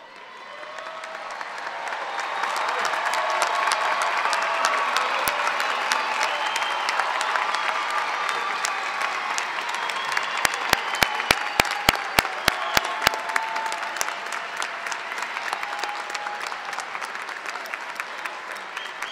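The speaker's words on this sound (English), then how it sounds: "Let's give him another round of applause." A large audience at a university commencement ceremony applauds, sustained clapping that swells and holds for many seconds, with a few sharp individual claps standing out and faint cheers in the crowd.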